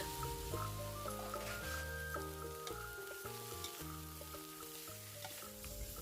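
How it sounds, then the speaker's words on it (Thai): Red curry paste and shrimp are stir-fried in a little oil over high heat, producing a lively, steady sizzle with stirring, heard alongside melodic background music. "ผัดพริกแกงจนหอมแล้วก็ใส่กุ้งลงไปเลยจ้ะ"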